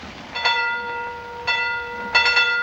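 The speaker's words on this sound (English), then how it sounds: "No, it's the express. The boat train." Express boat train passing a station, its bell-like tones ringing in three swells, with steady rail rumble underneath, moderately loud and with no voices.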